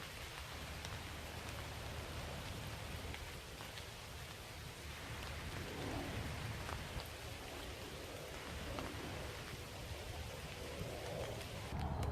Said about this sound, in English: It's pissing down with rain now.